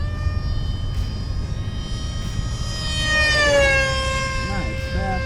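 An HobbyKing SU-35 fighter jet model, a 735mm EPO foam RC plane, makes a flying pass with a steady, high electric ducted-fan whine that rises in pitch as it sweeps past, with outdoor wind noise beneath.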